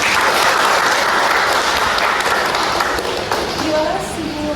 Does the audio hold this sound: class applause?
yes